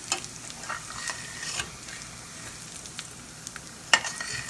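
White rice frying in a pan while being stirred, a soft continuous sizzle broken by scraping strokes and light clicks of the utensil, one sharper knock near the end.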